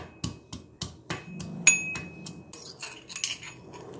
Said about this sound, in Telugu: ఇప్పుడు ఒక రోల్ తీసుకొని మనము ఇందులో వెల్లుల్లి వేసి వీటిని కచ్చా పిచ్చగా దంచుకోవాలి